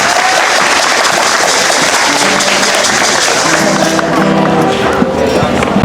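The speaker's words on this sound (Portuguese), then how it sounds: "Palmas para a vovó Ione." A crowd of listeners applauds loudly and steadily for an elder Terena woman about to sing at an Indigenous cultural gathering, the clapping dense and continuous throughout.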